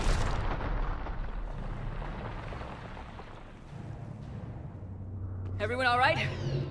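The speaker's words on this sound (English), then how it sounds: "That's a big beam weapon." A huge beam weapon blast in Mass Effect 3 opens with a loud roaring rush that slowly fades into a low rumble, then swells again with a wavering, warbling energy sound near the end.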